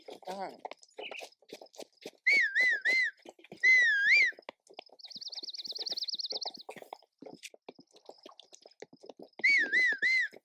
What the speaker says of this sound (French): j'aurais pas dû siffler